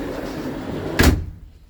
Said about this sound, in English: We just closed the door.